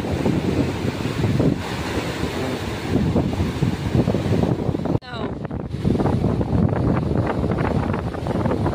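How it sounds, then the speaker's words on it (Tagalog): Strong wind roars and buffets against the microphone continuously on a beach, with a brief dip midway, loud and close throughout. "lakas ang hangin"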